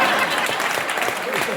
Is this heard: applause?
yes